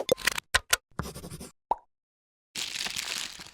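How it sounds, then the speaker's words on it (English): A package of Cascadian Farm cinnamon apple granola being rolled up, with sharp close crinkles and plops, a rustling burst, a short pause, then a sustained loud crackle of plastic packaging. "rolling up another package of cereal"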